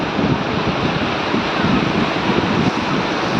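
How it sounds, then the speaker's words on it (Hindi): Ocean surf rolls steadily onto the sand at Puducherry beach, a loud, continuous wash of breaking waves with wind rumbling against the microphone and no talk. "लहरें जैसे कोशिश कर रही हैं, छू लेना चाहती हैं।"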